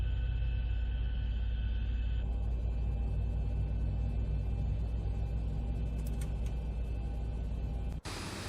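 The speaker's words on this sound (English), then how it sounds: "A couple of lightning strikes in the background." Lightning strikes in the X-Plane 11 flight simulator are followed by low, continuous thunder rumbling in the distance under a steady cockpit hum.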